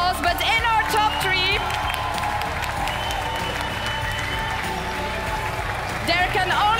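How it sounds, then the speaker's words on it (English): An audience at the World Chocolate Master competition applauds the finalists with loud, sustained clapping, scattered whoops and cheers rising near the end, and voices talking over the crowd. "Please give also number 3 and number 2 a big round of applause"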